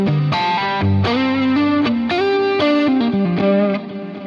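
Electric guitar played through a GFX10 multi-effects unit with a distorted, chorused preset: a sustained melodic phrase of loud, thick notes and chords, played alone without talk.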